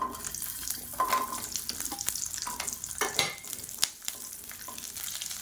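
Whole small shallots and asafoetida fry in hot oil in a pan, a close, crackly sizzle with occasional sharper pops and spoon scrapes as they are stirred, fairly quiet and continuous with no talking.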